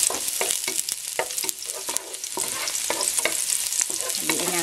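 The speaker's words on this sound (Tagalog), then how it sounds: "lagay natin itong garlic. Gigisahin natin yung ating chop suey." Garlic sautéing in hot oil as the base for chop suey, with a steady bright sizzle broken by repeated close clicks of a spatula stirring against the pan, and no talking.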